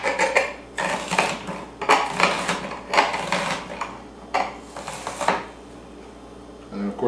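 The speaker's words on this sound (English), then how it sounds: "I'm chopping this up kind of small for the salad" A knife chops an onion into small pieces on a cutting board for a salad, giving close, crisp bursts of rapid chopping in several quick clusters with brief pauses between them.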